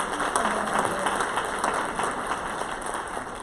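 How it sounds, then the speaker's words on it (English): Steady applause from a crowd, a dense even patter of many hands clapping that holds for the whole stretch without fading. "Let's give them all applause for their efforts."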